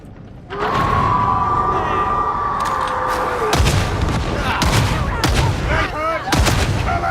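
Heavy gunfire and booming shots from a gunner in a Warhammer-style shooter video game, loud and continuous, with sharp bursts and blasts layered over a sustained roar of battle throughout.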